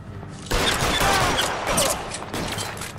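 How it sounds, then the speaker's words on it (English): A burst of gunfire from the game L.A. Noire breaks in suddenly after a quiet start, a loud rapid volley of shots that carries on for a couple of seconds. "oh, he was still shooting"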